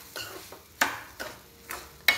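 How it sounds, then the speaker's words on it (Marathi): Semolina with pineapple slices, ghee and sugar being stirred over low heat in a pan, five distinct spoon scrapes and clacks against the metal at a slow steady rhythm over a faint sizzle. "हे पहा अशा प्रकारे साखर घालून हलकेसे परतायचे."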